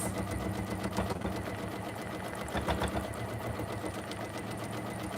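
A sewing machine stitches across a quilt-as-you-go block, humming steadily and close throughout, with a brief back stitch partway through and no talking.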